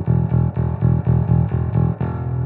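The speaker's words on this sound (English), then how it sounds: "We'll slowly bring in the distortion so you see what it sounds like." An EBS distortion pedal drives a bass guitar through a loud, repeated riff of evenly spaced notes, the gritty, harmonically rich tone filling the clip with no voices.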